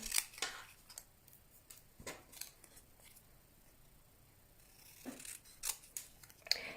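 Small scissors snip through card in a few quiet, crisp cuts spaced apart, close by and faint against a near-silent room, with no talk.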